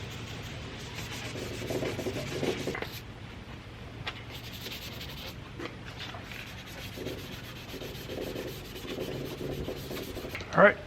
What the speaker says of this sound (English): the flatter spots are better with the random orbital sander